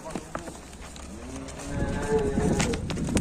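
A jumbo cow being loaded onto a truck clatters with its hooves and lets out a low moo, close by, while several people talk and call out around it.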